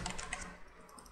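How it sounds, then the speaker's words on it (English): Random characters typed on a computer keyboard give a quick run of close, soft key clicks over about a second, without any talk. "Here I'm typing all the characters, some random characters"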